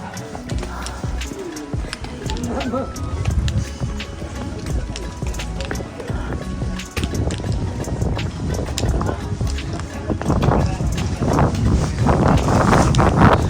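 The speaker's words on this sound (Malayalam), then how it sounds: "തണുത്ത കാറ്റടിക്കുന്നുണ്ടേ" Gusty cold wind buffets the microphone with a low rumble on a mountain trek near Everest, joined by footsteps and scattered knocks, growing louder and rougher toward the end.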